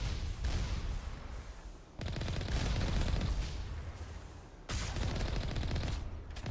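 Gunfire in Mass Effect 1 Legendary Edition comes in three sustained bursts of rapid automatic shots, loud and close, separated by brief abrupt gaps with no talk.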